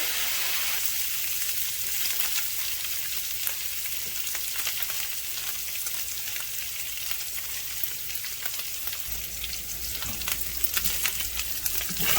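Onions and mushrooms frying together in a pan for beef stroganoff, giving a steady, dense sizzle that carries on without a break, loud and close, with no talking over it.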